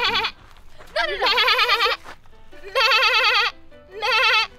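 People imitate sheep bleating, giving several long, wavering nasal bleats in a row, loud and close, with short pauses between them.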